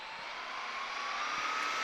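A Traxxas X-Maxx RC truck with an 8s Hobbywing MAX 6 setup and 4985 1650kv brushless motor makes a steady, loud high-pitched whine that rises slightly as it passes, with no talking.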